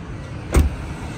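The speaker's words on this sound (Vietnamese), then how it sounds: "gương kính điều chỉnh điện lên xuống êm má nhẹ nhàng" Power window on a 2015 Toyota Vios 1.3 manual sedan gives a single short motor whir lasting about a second, close and fairly loud.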